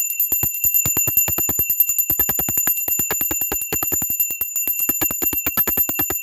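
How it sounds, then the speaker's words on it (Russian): An Indian bell rings over and over in a rapid, steady series of bright metallic strikes, each ring held by sustained high overtones, loud and close throughout with no voices. "Это такой звон. Это индийский колокол."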